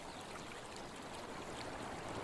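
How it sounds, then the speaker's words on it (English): Steady broadband rush of running water at a beaver dam in the wild, a constant close stream-like flow holding an even level for the whole stretch with nothing else breaking through. "The sound of running water triggers an obsessive desire to build."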